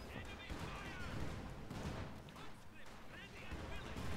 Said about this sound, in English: I've got a rifle team shooting my mortars